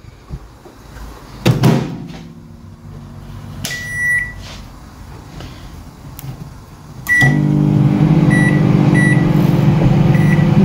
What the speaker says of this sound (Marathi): आतां घालता हेका सारके मायक्रोवेवन.